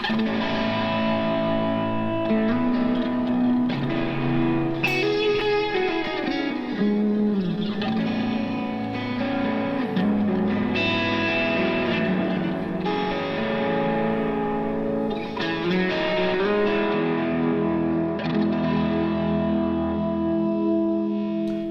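Distorted electric guitar through overdrive plays sustained chords and melodic lines, washed in echoing delay repeats and spacious reverb, loud and continuous without any talking.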